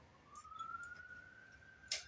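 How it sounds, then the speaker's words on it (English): A faint, distant siren outdoors on Vancouver Island wails in a single slowly rising tone, with a sharp click near the end. "Oh, sirens are out there today."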